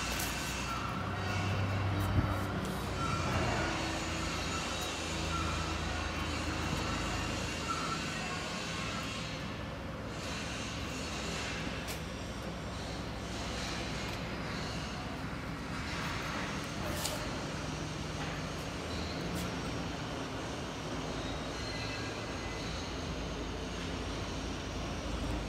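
The motor of a hydraulic curb-stone block brick machine runs in a steady, loud mechanical drone with a constant low hum throughout, broad industrial rumble, and occasional faint clanks.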